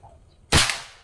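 A single sharp crack from a PRNB airgun tuned to about 950 FPS, fired at a target during sighting-in, with a short decaying tail and otherwise quiet surroundings.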